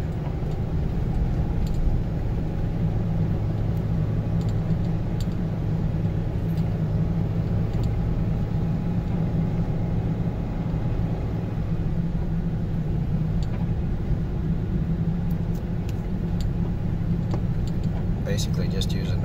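A Jeep Rubicon climbs a snowy hill, its front bumper plowing through snow as it holds speed; a loud, steady low engine rumble runs throughout, close and continuous.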